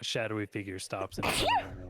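A single performed sneeze bursts out sharply during tabletop role-playing narration, right after a narrating voice. The sneeze is close and clear against the talk.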